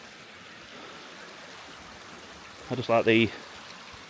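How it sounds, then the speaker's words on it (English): A stream of water flows steadily along a nature trail, a soft continuous rush heard at a distance, with someone briefly speaking over it near the end. "I can sit all day and listen to that water all day."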